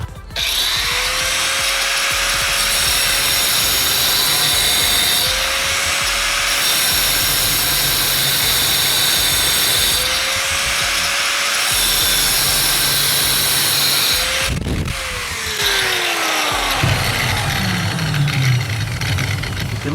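An angle grinder with a diamond blade cuts porcelain tile in a loud, continuous high-pitched whine, with brief dips in pitch as the blade bites, then a change in tone near the end as the cut finishes.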